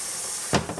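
Short burst of Crisco butter-flavored cooking spray hissing from the can into a ballistic gel mold, a brief sharp spray followed by a couple of weaker puffs after a steady background hiss.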